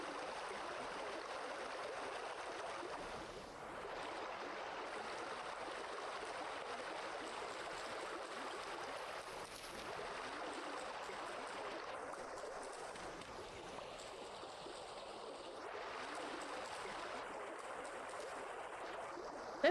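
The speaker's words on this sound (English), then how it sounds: "That is some very fast moving water." Fast-moving stream water rushing in the video game Vintage Story, a steady, soft broadband wash that continues evenly with no voices.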